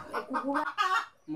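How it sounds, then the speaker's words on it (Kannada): A hen clucks close by in a village on Majuli, Assam, giving a quick run of short throaty clucks followed by a brief low note. "ಕೋಳಿ ಮೊಟ್ಟೆ ಇಡ್ತೈತೆ, ಅದು ಯಾವಾಗಲೂ ಇಲ್ಲೇ ಓಡಾಡ್ತೈತೆ"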